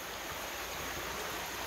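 Creek water flowing over rocks, a steady broadband rush of running water that stays constant and fairly close throughout, with no voices.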